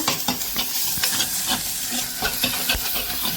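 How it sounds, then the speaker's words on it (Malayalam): Onions and masala in a hot pan, stirred with repeated scraping strokes over a continuous hiss and sizzle, close and fairly loud, with no talk. "നന്നായി ഇളക്കി കൊടുക്കാം. മസാല നല്ല പോലെ ഉള്ളിയിലൊക്കെ പിടിച്ച് വരട്ടെ."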